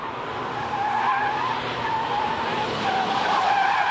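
Mazda RX-7 cars, old and new generations, accelerate from a standing start into a slalom course, a steady loud engine roar with tyre noise running throughout, fairly close and continuous without pauses.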